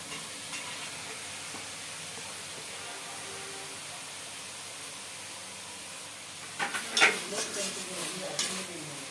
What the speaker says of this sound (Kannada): ಎಲ್ಲ ವೆಜಿಟೇಬಲ್ಸ್ ಹಾಕ್ತಾ ಇದ್ದೀನಿ.